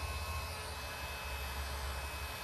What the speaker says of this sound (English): I've got a little cordless heat gun.